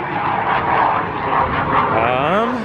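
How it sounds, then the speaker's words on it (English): A fighter jet takes off somewhere nearby, giving a broad, steady, rushing roar that fills the scene throughout, with a voice briefly joining at the end. "Got a fighter jet taking off, which we'll probably hear in a second or two."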